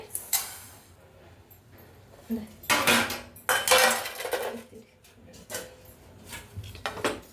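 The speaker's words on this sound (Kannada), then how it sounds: "ಈಗ ಇವಾಗ ನೋಡಿ ಜೀರಿಗೆ ಹಾಕ್ತಾ ಇದ್ದೀನಿ" Cumin seeds are tipped into a pan and roasted for homemade sambar powder, with bursts of scraping, stirring and metallic clattering of utensil against pan, close and intermittent, no talking.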